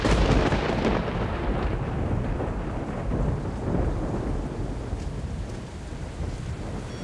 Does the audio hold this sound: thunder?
yes